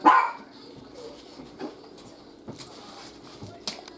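An old, blind, deaf and toothless dog lets out one loud, close bark at the start, followed by quieter background sounds and a few faint noises.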